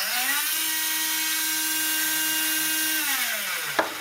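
A small electric motor in the gearbox of a toy fire engine whines steadily at close range, its pitch rising as it spins up and falling as it winds down, ending in a sharp click.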